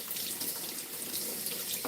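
Water runs steadily from a tap as indoor garden plants are rinsed with a soap solution, a continuous close splashing stream with no talking.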